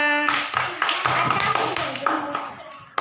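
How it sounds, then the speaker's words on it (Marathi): First-grade schoolchildren clapping in a classroom, a short burst of scattered, uneven claps with a voice speaking briefly at the start. "सगळ्यांनी टाळ्या वाजवा"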